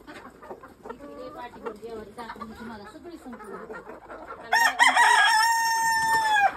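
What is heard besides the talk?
chickens clucking and a rooster crowing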